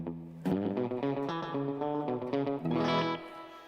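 Electric guitar played through a Space Echo tape echo, a run of clear sustained notes with repeating echoes and reverb tails, a louder strummed burst near the end, no voices.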